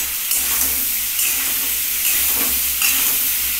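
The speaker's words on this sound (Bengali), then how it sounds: "এবার দিচ্ছি আলু, আর দিচ্ছি দুটো কাঁচা লঙ্কা।" Potatoes and green chillies fry in a pan for a papaya and potato curry, giving a steady loud sizzle and hiss with faint stirring scrapes throughout.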